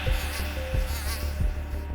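A steady insect-like buzz drones on for the whole clip, with a few low thumps breaking in at intervals.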